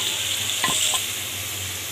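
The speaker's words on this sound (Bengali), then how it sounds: "এখন আমি পেঁয়াজটা ভেজে নিই" Onions fry in a pan with the spices left over from the fish, making a continuous close sizzle with a couple of brief stirring clinks in the middle.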